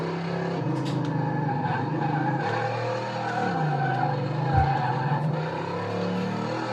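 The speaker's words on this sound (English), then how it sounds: "Now we're doing burnouts with it" A restored junkyard car in the Car Mechanic Simulator video game does burnouts, with loud continuous tire squeal and skidding over a roaring, revving engine, sustained and close throughout.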